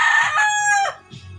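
A rooster crows once, loud and close, its harmonic call rising and then dropping off, with faint low clucking and farmyard rustle beneath.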